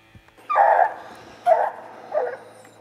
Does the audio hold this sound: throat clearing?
no